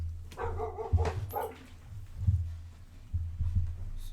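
A dog barks nearby in a home, with several short, sharp barks in irregular bursts, some close together and some with high yips, alone without talk.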